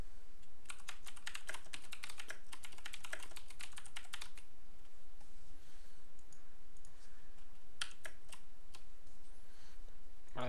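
Rapid keyboard typing on a computer while entering text into a WordPress visual editor, a dense burst of clicks for about four seconds, then a quieter pause and a few scattered keystrokes, close and steady with faint room noise.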